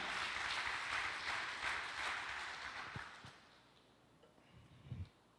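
A church congregation applauds, a faint, steady wash of clapping that thins out and fades away over the first few seconds, leaving near-quiet with a couple of soft knocks.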